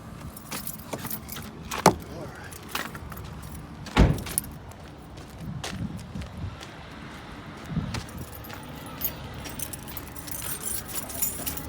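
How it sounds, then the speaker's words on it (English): A set of keys jangles close by as the key for a 2007 Freightliner Columbia truck is grabbed, with a couple of sharper metallic clinks standing out over quiet, faint background noise. "Let me grab the key."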